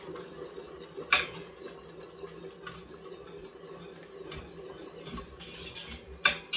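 Root beer ribs are stirred in a pressure cooker pot with a few sharp metal clinks and scrapes of the utensil against the pot over a quiet kitchen background.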